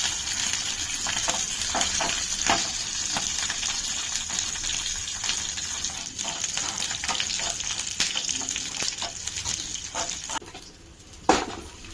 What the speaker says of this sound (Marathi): त्याच्यात तेल टाकले, तडका द्यायचा आहे